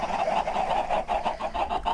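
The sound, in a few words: chickens clucking in Minecraft (Thaumcraft 4 mod), video game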